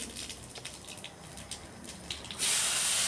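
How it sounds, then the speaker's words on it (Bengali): Tempering spices hit hot oil in a pan just emptied of fried rohu fish, breaking into a loud, steady sizzle after a quieter stretch of faint crackling, with no talk. "ফোড়নে দিয়ে দিচ্ছি"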